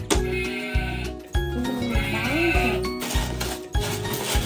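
Sheep bleats ring out amid a busy mix of tones and rhythmic music, with several wavering calls at moderate loudness.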